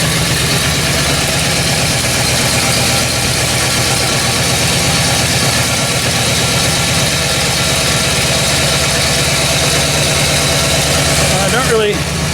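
A big block Buick GS engine idles in a shop with a steady, loud, low rumbling pulse that continues evenly throughout, with a short clatter near the end.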